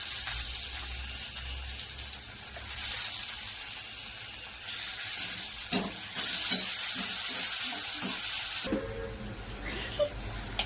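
Onions sautéing in a pan for a wet cashew curry, giving a steady sizzle with stirring scrapes; near the end a fresh hiss and soft plop mark tomato being added.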